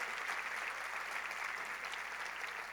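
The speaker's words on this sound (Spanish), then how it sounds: "Déselo más fuerte" A church congregation bursts into loud, sustained applause, a dense steady wash of clapping from many hands that holds evenly throughout without pause.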